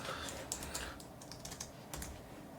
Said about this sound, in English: So we could type in ADHD for interests.